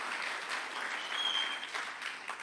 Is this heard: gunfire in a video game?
no